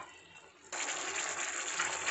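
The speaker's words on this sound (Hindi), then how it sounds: "थोड़ा सा पानी डाल के इसको भून लेना मसाला" Water poured into a pan of frying spices (turmeric, chilli, cumin, salt) for a fish curry, a sudden steady broadband sizzling rush that starts abruptly and continues loudly without talk.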